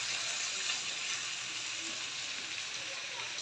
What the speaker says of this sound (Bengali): তরকারিগুলো আমি একবারে ভাজা ভাজা করে নেব।